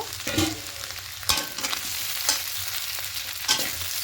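Vegetables fry in a covered pan on a gas stove with a steady hiss and sizzle, broken by a few sharp stirring scrapes, with no one talking.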